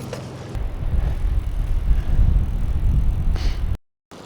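Bicycle ride outdoors on a mild day, with steady rolling and wind rush buffeting the microphone, loud and continuous, before it cuts off abruptly near the end.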